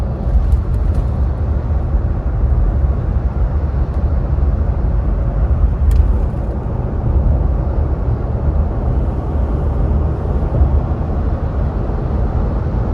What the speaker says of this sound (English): I can definitely tell the difference in the road noise.